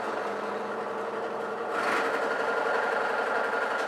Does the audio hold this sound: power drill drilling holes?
yes